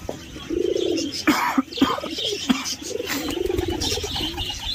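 Pigeons cooing in a loft, a steady run of soft, rolling coos close by with some sharper chirps and rustles between them, no voices.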